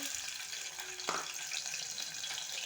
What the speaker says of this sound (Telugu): పచ్చిమిర్చి వేసి ఇలా కలుపుతాను